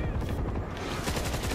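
Rapid heavy gunfire from a big gun in World War Z, a dense continuous burst of booming shots filling the scene, loud and close with no talking.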